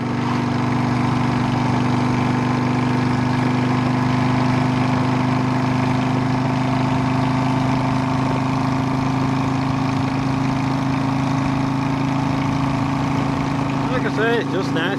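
A motorcycle runs along the road with a loud, steady engine drone that holds an even, unbroken hum throughout.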